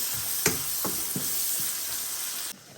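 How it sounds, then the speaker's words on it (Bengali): Onion and cumin frying in hot oil with dried chilli, salt and turmeric, a steady loud sizzle with a few soft stirring strokes, close up, then the sizzle drops away abruptly near the end. "আর পেঁয়াজ আর জিরাটা আগে ভাজি করে লই।"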